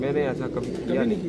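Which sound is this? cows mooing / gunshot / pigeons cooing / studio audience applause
pigeons cooing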